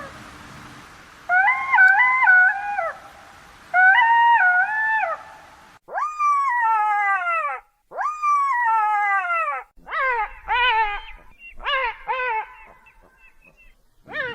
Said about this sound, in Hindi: इतना कहकर सियार अब पहले से भी अधिक जोर से चिल्लाने लगा।